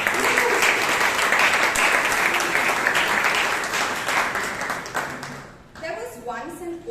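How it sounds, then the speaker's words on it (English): Audience applause at a Toastmasters meeting in Bangalore, a sustained burst of many hands clapping that fades over several seconds before a speaker begins talking. "A big round of applause for our kind, calm, and positive President"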